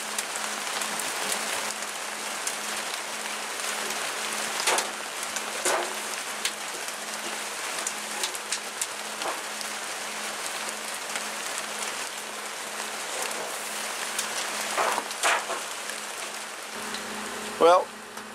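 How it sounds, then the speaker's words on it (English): Steady rain falling at night in Wisconsin, a dense continuous hiss of drops on surfaces at an even level throughout, with a few brief louder splatters and a short sharper sound near the end. "And now rain tonight."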